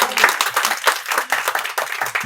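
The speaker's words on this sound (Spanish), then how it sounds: "Un aplauso." Applause from a small audience at a book event, individual claps clearly distinguishable in an uneven, close-up patter.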